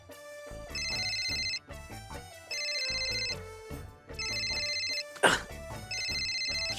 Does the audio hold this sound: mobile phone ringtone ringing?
yes